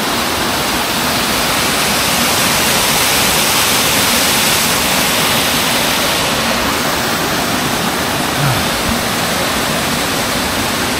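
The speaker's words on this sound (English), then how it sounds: "it's just waterfall after waterfall after waterfall." Roaring waterfall in the Ruahine Range, New Zealand, a loud, steady broadband rush of falling water filling the whole stretch with constant hiss and low rumble, close to the listener and without speech.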